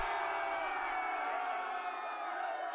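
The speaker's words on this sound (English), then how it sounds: "the eruption of applause from the crowd" Crowd at a jousting tilt, a dense roar of many voices cheering and whooping, loud and sustained without a break.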